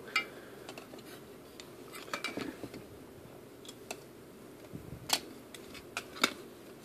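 Metal handle of a Stanley camping cook kit pot being folded, giving a few sharp close clicks and clinks of steel over quiet background handling noise.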